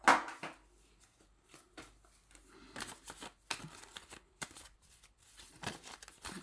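Tarot cards handled at close range: scattered soft papery slides, flicks and taps spaced irregularly, with quiet gaps between them and no talk.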